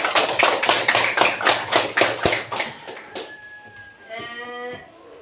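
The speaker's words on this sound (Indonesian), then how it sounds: "Jadi, tepuk tangan untuk semuanya." Children in a classroom clap together in a fast, even rhythm for about three seconds, then the clapping stops and a short tonal chime and electronic melody follow.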